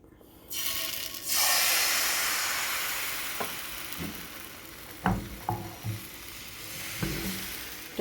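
Pitha batter sizzles on a pan brushed with oil using an oil-soaked white cloth, a steady, close hiss with a few soft clicks and taps of utensils.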